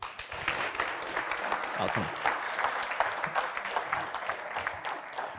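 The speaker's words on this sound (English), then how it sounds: "Round of applause." Steady audience applause at a research harvest day event, moderately close and continuous for several seconds, with a voice speaking briefly over it.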